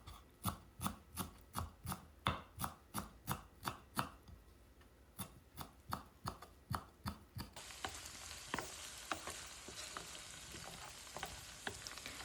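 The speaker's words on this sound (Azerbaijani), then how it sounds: "Və üzəri üçün yarım dəstə kişniş də doğrayıram." A knife chops half a bunch of fresh coriander on a board in quick, steady strokes, about sixteen crisp close thuds, before a loud frying sizzle from a cauliflower dish takes over. No one speaks.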